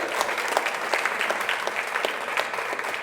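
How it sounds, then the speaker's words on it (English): An orchestra concert audience in Minnesota welcomes a guest violinist with fairly soft, steady applause from a crowd. The clapping is continuous and slightly distant, with a faint voice mixed in. "Everyone give her a round of applause."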